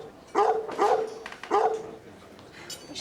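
A small dog barks three times, close and sharp with yelping pitch, the barks spaced across the scene and followed by quieter background noise without talk.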